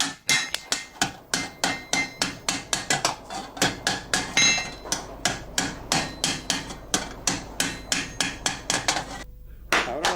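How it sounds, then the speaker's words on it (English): Steady hammering as a ring of iron wire is enclosed into the mouth of a copper cauldron, dozens of sharp ringing blows in a regular rhythm, close and loud with no talking. "A ring of iron wire fitted to the mouth of the cauldron and enclosed by hammer blows"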